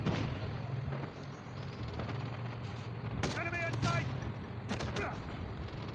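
An M21 EBR sniper rifle fires in Call of Duty: a few sharp shots stand out over constant game background noise, with several bright bursts close together in the second half.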